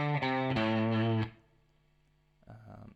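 An electric guitar riff through effects, with distorted chorus-like sustained notes, from a song: a few loud plucked notes with slides, then a quiet pause and a softer note at the end.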